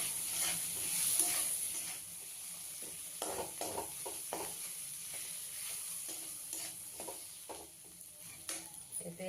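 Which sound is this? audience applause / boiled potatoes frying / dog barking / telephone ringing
boiled potatoes frying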